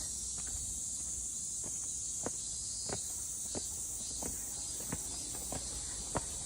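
Cicadas drone steadily near outdoor stairs, a loud continuous high buzz filling the scene, with a series of soft, evenly spaced footsteps or taps sounding through it.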